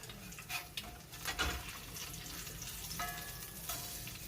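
An egg fries in a new Lodge cast iron skillet sanded smooth inside, a faint, even sizzle with a few soft clicks and brief ringing tones.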